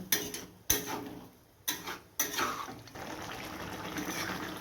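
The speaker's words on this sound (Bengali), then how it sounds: "সামান্য জল দিয়ে দিব" A little water goes into a simmering chili paneer curry: a few sharp knocks and splashes of pouring, then a soft, steady liquid bubbling, quiet and close.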